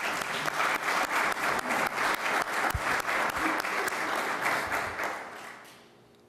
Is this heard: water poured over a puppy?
no